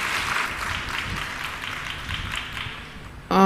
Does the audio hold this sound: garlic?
no